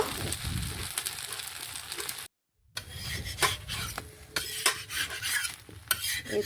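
A spatula scrapes and stirs through bean pitha frying in a pan, with close, irregular rasping strokes over a soft sizzle and a brief silent gap partway through.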